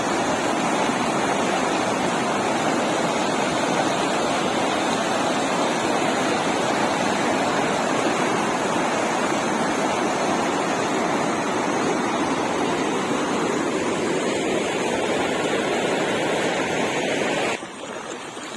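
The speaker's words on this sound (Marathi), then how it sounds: "नदीनं पूर्ण रुद्ररूप घेतलेलं आहे. पूर्ण रस्ता बंद झालेला आहे." Floodwater from a swollen river rushes across a village road in Jaur, a loud, steady roar of churning water that holds throughout, briefly dropping in level near the end.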